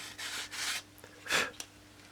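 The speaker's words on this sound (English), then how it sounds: "The corners have been removed with a few strokes of course sandpaper." Coarse sandpaper rubbing the corners off a small wooden model part, a few separate soft rasping strokes, close and fairly quiet, with brief pauses between them and no talking.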